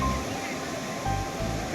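Sea waves washing onto the beach at Hedvi on the Konkan coast, a steady broadband surf roar that swells slightly about midway, heard alone without voices.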